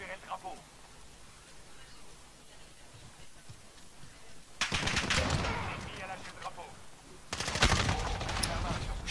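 Gunfire in a first-person shooter after a sniper rifle is unlocked comes in two dense bursts of rapid, loud shots. Each burst lasts a couple of seconds, with quieter game ambience and some talk between them.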